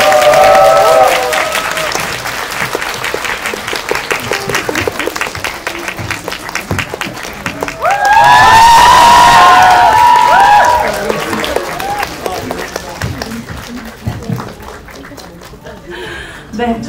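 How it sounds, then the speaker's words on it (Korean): Cinema audience clapping for the director and cast of the film The Moon at a post-screening talk, sustained applause with a louder swell of cheering midway, a host speaking over it and scattered laughter. "큰 박수 부탁드립니다."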